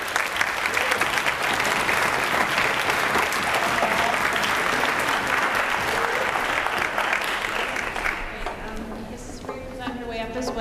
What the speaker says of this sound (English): we can clap for Mrs. Sniper